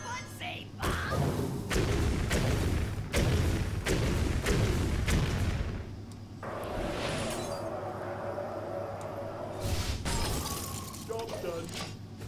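A string of Mad Bomber bomb explosions in the Hearthstone video game: a rapid series of sharp, heavy blasts and thuds up front, then quieter rumbling impacts, with a voice talking over them.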